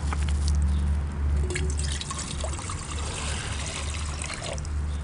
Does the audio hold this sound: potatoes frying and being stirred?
no